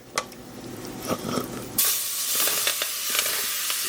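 Turkey neck pieces hit a hot pot for searing in a Jamaican curry, setting off a sudden loud hissing sizzle that follows a few quieter crackles and then holds steady.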